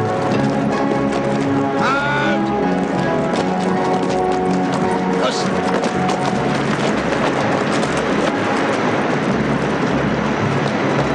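Hooves pound rhythmically in a steady, dense gallop, loud and continuous, with a brief whinny-like cry early on.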